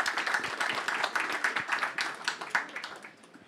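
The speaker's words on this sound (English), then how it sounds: "please join me in a round of applause to our lovely audience." A conference audience claps in a round of applause after a panel discussion on transatlantic partnerships, a dense patter of hands at moderate level that thins and fades toward the end.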